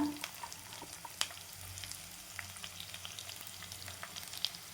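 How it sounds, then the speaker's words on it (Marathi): Sliced onion going into a pan with already roasted garlic and frying there, a soft steady sizzle with a few sharp crackles and stirring scrapes, fairly quiet and close, with no talking. "लसूण आपला छान भाजला गेलेला आहे आता कांदे टाकते मी मोठा कांदा घेतला"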